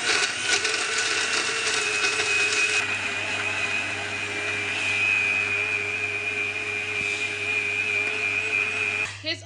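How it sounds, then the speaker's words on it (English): Blender whirring steadily while mixing a honey smoothie, a loud continuous motor whine that starts with a rougher chopping phase and ends abruptly after about nine seconds, heard close up. "Now we blend it."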